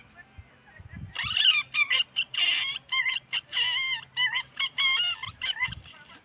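A person imitates the call of a bird named the chito: a rapid series of shrill, honking chirps, closely spaced and fairly loud over a faint low hum.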